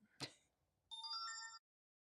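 Alert chime from a Note Air 4C e-ink tablet: a short tonal jingle of stacked bright notes that rings clearly for just under a second after an earlier brief knock, then stops, leaving quiet.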